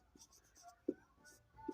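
Chalk writing out a word equation on a board in a Class 10 chemistry lesson, a few faint scratchy strokes with a couple of sharper taps, quiet and close, with no talking.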